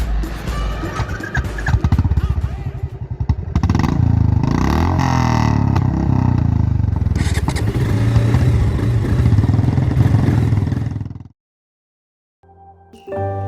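A freshly repaired KTM motorcycle revs hard and close, its engine roaring with clattering mechanical noise and rising and falling pitch for about eleven seconds before cutting off abruptly, followed by brief faint rustling.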